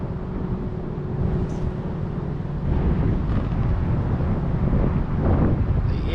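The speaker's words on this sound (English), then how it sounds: "That's how strong the wind gusts are right now" Strong wind gusts on big open water buffet the microphone during kayak fishing, a loud, rumbling roar that surges and swells in waves with no voices.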